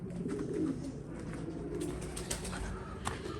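Pigeons coo steadily in a close, enclosed loft, soft overlapping calls with a faint flutter of wings and no talking.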